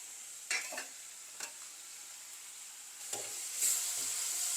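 Tomatoes and onions sautéing in a pan over raised heat, a steady faint sizzle punctuated by a few short scrapes of stirring, with a brighter hiss swelling toward the end.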